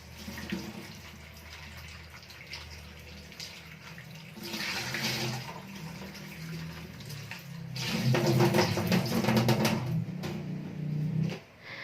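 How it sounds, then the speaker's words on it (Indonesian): Vegetables are rinsed under a running kitchen tap, a steady close rush of water that swells louder when the produce is moved through the stream. "Pokoknya diusahain kalau nyuci sayuran tuh langsung di air mengalir kayak gini."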